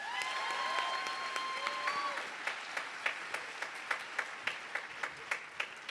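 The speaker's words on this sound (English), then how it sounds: "Let's give them another round of applause." A graduation audience at a high school ceremony gives freshman students a round of applause, the crowd clapping thinning into a few distinct, evenly spaced claps by the end, with a faint voice early on.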